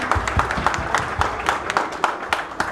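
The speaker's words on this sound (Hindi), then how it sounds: "तालियों के साथ वेलकम कीजिए जी" Audience applause greeting a speaker called to the rostrum at a dealers' group rally, steady dense clapping from a crowd throughout, with no talk over it.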